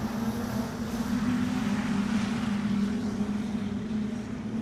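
Street stock race cars circle Kingaroy Speedway on a dirt oval, their engines blending into a steady, distant droning roar that swells gently and never drops out.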